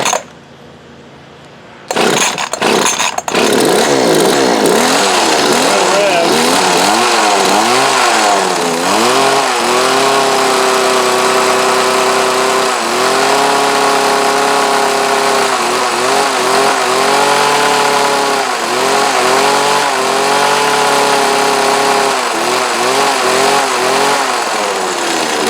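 A 20-year-old Poulan Pro hedge trimmer with a carburetor issue from long storage starts up, then its small two-stroke engine revs unevenly, surging and sagging repeatedly as it struggles to settle into an idle, loud and close.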